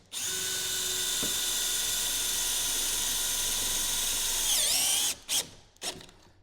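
A power driver whines steadily as it sinks a long number 8 sheet metal screw into a window frame while mulling, the pitch dropping as the screw seats, followed by two short bursts of the motor.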